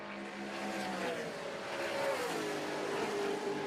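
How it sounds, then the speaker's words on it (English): Race cars scream down the Mario Andretti straightaway at Mosport, a loud, continuous engine whine with pitch sweeping as the cars pass in close succession. "You can hear the cars sing down the Mario Andretti straightaway."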